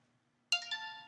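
A mobile phone plays a message notification, a short bright chiming tone with a couple of quick pitched notes that breaks out of near silence, close and clear.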